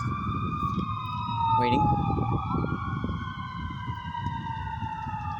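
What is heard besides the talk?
emergency vehicle sirens passing outdoors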